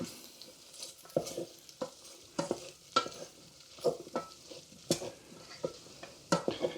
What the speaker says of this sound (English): So give them a quick stirring.